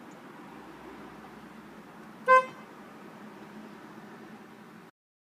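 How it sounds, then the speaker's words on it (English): A single short car horn honk sounds once over a steady hiss of background noise, loud and close, then the noise cuts off. "show me how you sound your horn"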